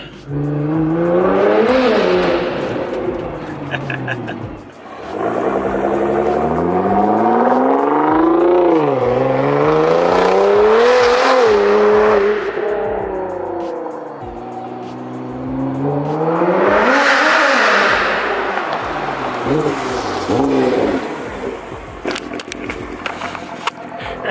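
A Nissan GT-R with all-wheel drive accelerates hard in repeated surges, its engine note climbing through the gears, dropping at the shifts and climbing again, loud and close throughout.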